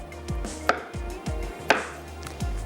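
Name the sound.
slicing garlic cloves with a knife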